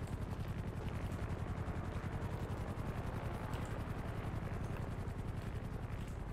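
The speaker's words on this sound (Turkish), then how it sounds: "Helikopter geliyor." Helicopter in GTA 5 roleplay gameplay, a steady rapid rotor chop droning continuously at moderate level throughout.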